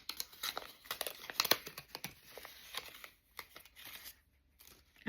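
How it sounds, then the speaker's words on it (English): Paper is cut and handled while a junk journal booklet is made, giving a series of close, crisp snips and crinkles in bursts that thin out toward a near-silent stretch at the end. "I got to cut it one more time."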